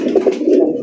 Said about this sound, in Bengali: এখানে রয়েছে একটা বোম্বাই কবুতরের কালেকশন মাশাআল্লাহ